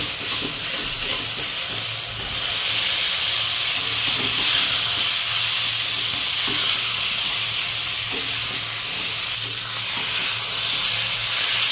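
Fried cauliflower and potato stirred into a sizzling spice paste in hot oil for a rohu fish curry, making a steady loud hiss and frying crackle with faint utensil scrapes throughout, no voices.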